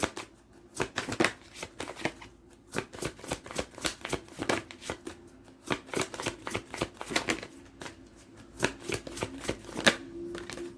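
Oracle cards being shuffled by hand, a long run of quick papery riffles and soft snaps, close and fairly quiet, with no talking.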